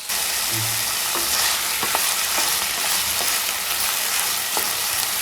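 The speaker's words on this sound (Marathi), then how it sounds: "आता ही आपण या तेलामध्ये परतून घेऊया" Ivy gourd (tendli) sautés in hot oil with cumin seeds, a steady loud sizzle broken by occasional scrapes and knocks of a spatula stirring the pan, with no talking.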